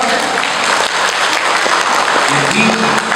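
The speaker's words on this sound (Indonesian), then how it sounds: "Tepuk tangan dong." Audience at a sixth-anniversary community gathering in Lombok breaks into loud, dense applause, many hands clapping steadily and close for a few seconds with a faint murmur of the crowd underneath.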